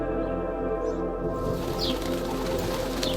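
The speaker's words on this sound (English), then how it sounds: "Pigeon." A pigeon coos softly in a low, rolling murmur over a steady background hum.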